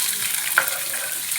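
Chopped onion frying in oil for spinach palya, a steady broadband sizzle throughout with one brief sharp click near the middle, no voices.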